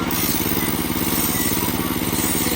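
A small motor mounted on a bicycle runs steadily nearby in a Philippine neighborhood, giving off a fast, even putter with a buzzy rattle and no pause.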